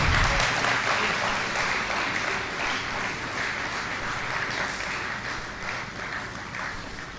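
Seminar audience on finance legislation keeps clapping as a speaker returns to his seat, a dense, continuous wash of applause, loud and even, slowly easing slightly over several seconds without voices.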